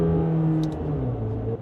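A McLaren 750S engine drones loudly and steadily with a strong tonal hum, its pitch dipping slightly during a quick downshift, with no voices.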